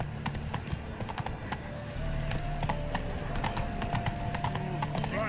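Horse hooves clip-clop at a steady galloping rhythm in The Witcher 3, loud and continuous throughout, with a faint whinny and game ambience underneath.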